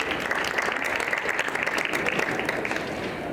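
Steady, loud applause from a conference audience welcoming an orthopedics speaker, continuous dense clapping with no break throughout.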